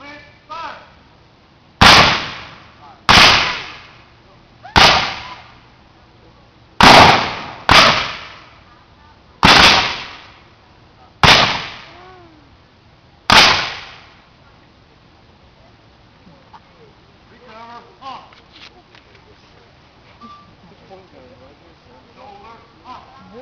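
Civil War reenactors fire muskets by file, one after another: eight sharp, loud reports in a steady sequence, each with a short echoing tail, followed by quieter crowd murmur and faint voices.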